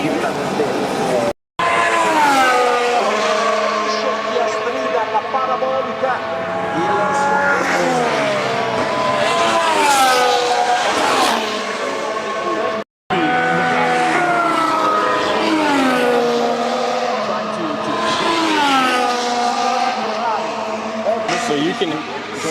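Formula 1 cars scream past one after another at the 2024 Monza race weekend, their high engine whine sweeping up and down in pitch, loud and close.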